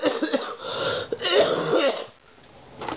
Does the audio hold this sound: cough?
yes